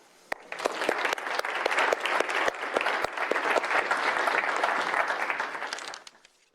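Audience applause welcoming a speaker at a talk on global economic governance: a large hall of clapping that starts sharply, holds steady and full for about six seconds, then tapers off.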